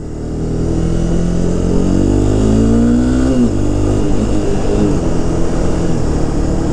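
A Honda CBR 300R motorcycle engine revving while riding, loud and close, with the pitch rising steadily through a gear before it drops on a shift and carries on under steady road and wind roar.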